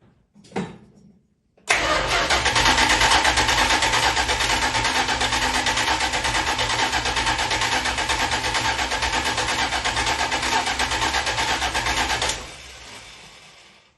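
An electric fuel pump runs after the car battery is hooked up: a loud, steady mechanical whir starts abruptly, holds for about ten seconds, then cuts off. A brief knock comes just before it.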